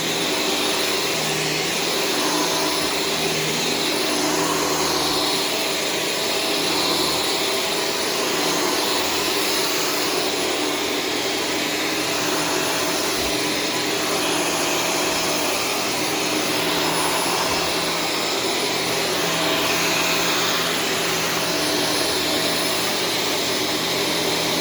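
Shark Stratos vacuum cleaner running steadily on low-pile carpet, a continuous loud motor whine and airflow roar with a high tonal hum, close to the microphone and alone throughout.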